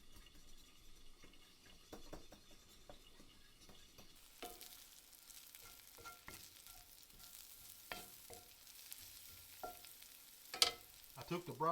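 Pickled onions caramelize in a cast iron skillet with a soft, steady sizzle and occasional stirring scrapes and clicks, fairly quiet throughout.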